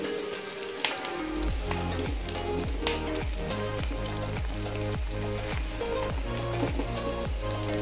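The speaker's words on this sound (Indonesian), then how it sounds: "Kita goreng beefnya" Beef patties frying for burgers in a pan, a steady close sizzle with crackling throughout, with rhythmic pulsing music playing loudly alongside and no talking.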